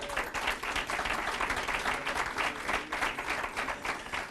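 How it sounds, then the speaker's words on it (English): A room full of people applauding, steady dense clapping that holds at an even level throughout without pausing. "give yourselves a round of applause for actually being in this room today"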